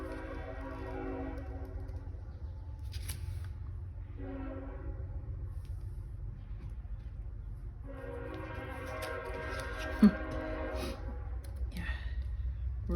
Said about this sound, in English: Sorry, train. I almost finished before one went through.